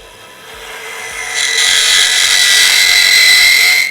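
Woodturning tool cutting a spinning workpiece on a lathe, chattering as it extends over two inches past the tool rest: a loud, steady high-pitched scraping whine that swells after a second and holds until stopping abruptly.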